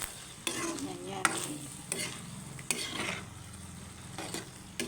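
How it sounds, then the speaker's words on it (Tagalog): Macaroni with cheese cooking in a pot, heard as a steady bubbling, stirring sizzle close by, with scraping spoon knocks at intervals and a brief spoken word. "Kumukulo na siya."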